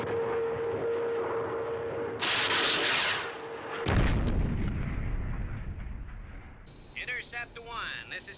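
An aircraft opens fire in a Thunderbirds episode, a sudden heavy burst of gunfire and booming blasts mid-clip over a rumbling engine drone. A radio voice is heard afterward.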